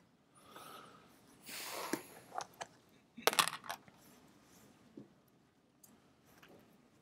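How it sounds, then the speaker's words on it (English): Students in a lecture hall clicking answers into handheld clickers, heard as scattered faint clicks and taps over quiet room noise, with a busier cluster near the middle. "That's people clicking in their numbers."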